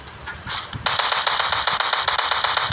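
A rapid burst of gunfire in a desert dinosaur-hunting video game set in Jurassic Park, loud and close, firing continuously in quick succession after a brief quieter lead-in.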